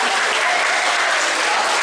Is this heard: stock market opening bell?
no